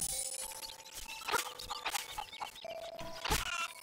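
A chicken in a Legend of Zelda video game clucks in a quick series of short, sharp calls over a layer of in-game music and ambience, with no talking heard.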